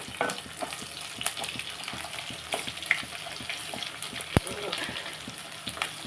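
Dried prawns frying in a pan for a gongura curry, a steady close sizzle with scattered pops and light stirring clinks throughout.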